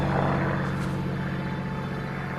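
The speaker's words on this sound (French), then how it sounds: "Ah, c'est son avion." Tails' airplane from the film Sonic the Hedgehog 2 flies past with a steady, loud propeller-engine drone that holds evenly throughout.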